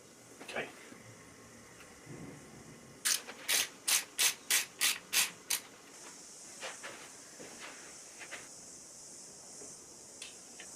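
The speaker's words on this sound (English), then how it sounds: "using our torque wrench." A torque wrench ratcheting on bearing bolts during DIY maintenance: eight evenly spaced, crisp clicking strokes in a quick steady rhythm, close and clear, with softer scraping and tool handling before and after.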